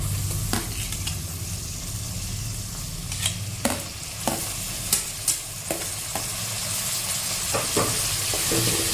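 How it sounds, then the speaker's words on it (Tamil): Onion and tomato fry in a pan with mint leaves for paneer veg biryani, a steady sizzle broken by repeated scrapes and clicks of a spoon stirring, close and without talk. "எல்லாத்தையும் நல்லா கலந்து விட்டுக்கலாம்."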